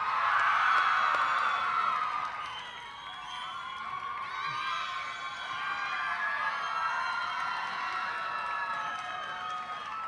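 A crowd cheers and whoops at a 2017 College of Communication & Creative Arts graduation ceremony, a steady wash of many voices, loudest at the start and continuing throughout.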